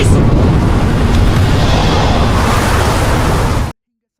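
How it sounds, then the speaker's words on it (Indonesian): An explosion from a weapon test, loud and near, is a dense roaring blast that stays heavy for several seconds before cutting off abruptly. "Ledakan itu mengejutkan semua orang yang hadir."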